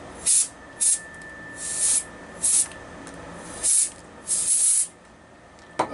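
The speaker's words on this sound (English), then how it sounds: "we basically take the sample and we blow compressed air" A compressed air gun cleaning a used construction material sample in a lab, giving sharp hissing blasts in about eight short bursts of varying length, with a faint steady tone between them.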